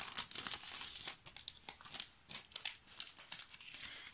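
A plastic sachet crinkles and rustles in quick, irregular bursts as it is handled close by while mail is being opened.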